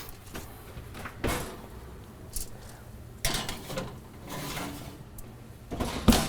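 Kitchen oven door opened and shut while cookies go in: several separate clunks and thumps spread out, with a sharper bang near the end, in a quiet room.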